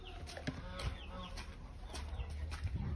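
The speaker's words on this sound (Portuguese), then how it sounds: "Tô com duas galinhas aqui chocando." Soft, low clucking from two brooding hens sitting on eggs in a farmyard pen, quiet and intermittent with faint rustling.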